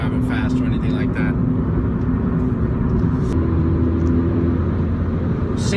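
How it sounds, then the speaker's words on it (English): A 2016 Ford Fiesta ST pulls in sixth gear, its engine a loud, steady low drone with road rumble inside the cabin, the tone shifting slightly partway through. "And then straight to sixth gear. I'm all about acceleration."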